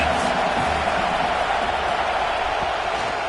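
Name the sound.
football stadium home crowd noise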